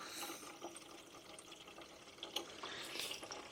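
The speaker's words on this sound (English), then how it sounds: "I've just filled up my watering can" Water runs steadily from a tap into a 10-litre garden watering can, a continuous splashing rush that holds at an even level with no voices.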